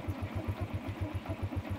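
A motorcycle engine while riding, a steady, evenly pulsing low-mid thrum with regular rapid firing beats, close and moderately loud, with no talking.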